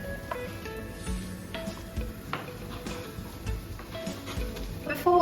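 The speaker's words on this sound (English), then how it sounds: "Our onions are beautifully caramelized now, and it's time to put in the potatoes." Sliced potatoes dropped into a pan of sizzling caramelized onions, a steady close frying hiss with scattered clicks and scrapes, a louder burst at the very end.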